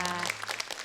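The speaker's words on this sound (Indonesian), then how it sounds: "kita kasih tepuk tangan semangat buat adik kita Aidini Najwa." A short burst of audience applause at a children's preaching competition on television, dense clapping fading within a second.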